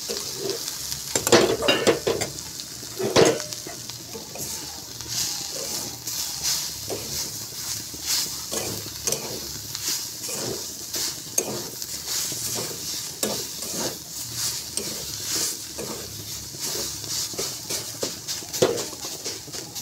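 Leafy greens frying in oil with garlic and dried red chillies, stirred steadily in a pan: a continuous close sizzle broken by repeated scraping and clinking of a spoon against metal, with no talk.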